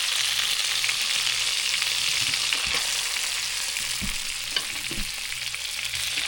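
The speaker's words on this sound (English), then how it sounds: "Now the onions going in slowly." Red onions sizzle and fry steadily in a tagine, a loud, continuous crackle with a few soft knocks of stirring and no talk.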